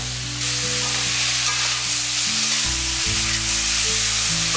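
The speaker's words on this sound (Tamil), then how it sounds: "அதுக்காக நான் இந்த மாதிரி லேசாக வறுத்துக்கிறேன், ரொம்ப மொறுமொறுன்னு வறுக்கணும்னு அவசியம் இல்லை" Grated carrots sauté lightly in a pan for payasam, giving a soft, steady sizzle close by, with a constant low hum underneath and no talk.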